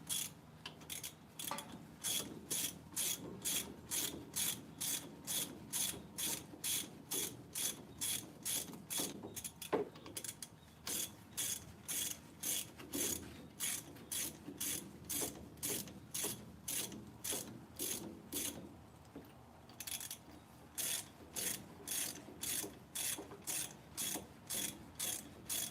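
Ratchet tightening bolts on the axle of a 1951 wrecker truck during brake work, a steady run of sharp, rapid pawl clicks in repeated short bursts with brief pauses, close and loud with no talking.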